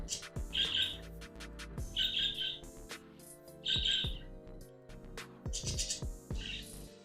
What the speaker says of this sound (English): the birds all loud and shit